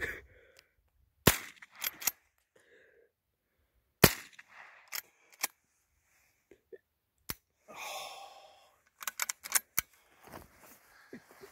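Guns fired outdoors at cow pies, with sharp single shots spaced irregularly across the quiet, some close and loud, others smaller pops and handling clicks, with brief low talk between.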